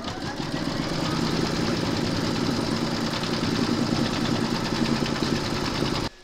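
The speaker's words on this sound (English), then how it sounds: "Pop your hoop into your machine and stitch round number 4 to secure your fabrics." An embroidery machine stitches appliqué fabric held in a hoop, giving a steady, continuous mechanical whir with a fast, even needle rhythm that runs at constant loudness for about six seconds and then stops, with no talking.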